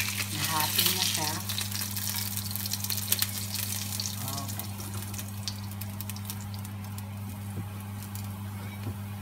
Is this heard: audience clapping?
no